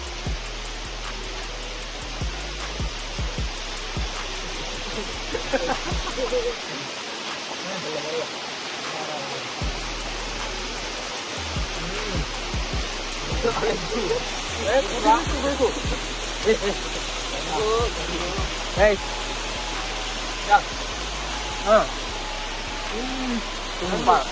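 Steady rushing water from a waterfall fills the scene as a continuous broadband roar, with some intermittent knocks and brief voices breaking through near the microphone.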